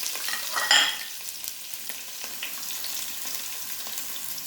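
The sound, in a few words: onions and green chillies frying with fenugreek in oil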